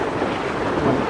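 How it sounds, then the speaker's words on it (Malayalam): Stormy weather in the video game Far Cry Primal: a steady, loud roar of wind and rain-like noise with a low thunder rumble underneath, continuous through the short stretch with no voices. "നല്ല ദിവസം ഒരു ചുഴലിക്കാറ്റുണ്ട്."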